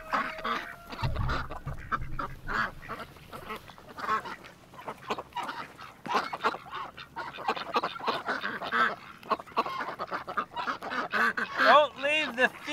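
Ducks and geese quack and honk repeatedly at close range on a farm during feeding chores, while people talk now and then.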